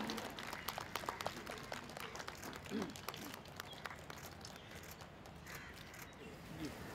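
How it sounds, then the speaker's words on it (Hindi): Audience applause in a hall welcoming a government science minister at an institute inauguration ceremony, a steady, moderately loud patter of many hands across the whole stretch with faint voices mixed in. "तालियों के साथ स्वागत करें माननीय मंत्री जी का।"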